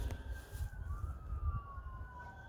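Emergency vehicle sirens wail in the distance near a farm beside a local golf course, a faint rising and falling tone carried over low rumbling background noise.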